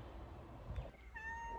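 A house cat meows once, a short, fairly quiet call at close range in a quiet indoor room with several cats.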